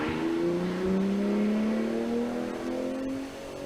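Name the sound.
Porsche 904 race car with flat-six engine driving past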